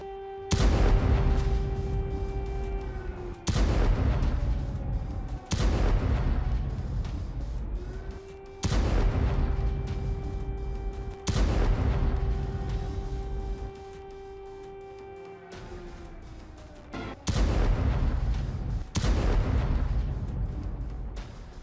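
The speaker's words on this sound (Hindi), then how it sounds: "रूस की यूक्रेन पर जबरदस्त बमबारी जारी है" Heavy booms from wartime bombardment in the Russia-Ukraine war hit in a repeated series, roughly every two to three seconds, each a loud, sharp blast followed by a rumbling decay, with no voices over them.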